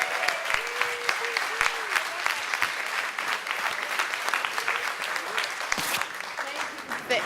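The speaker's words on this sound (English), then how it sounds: "Give yourselves a great big round of applause." A room full of guests applauding at a fundraising gala, steady sustained clapping with scattered whoops and voices mixed in.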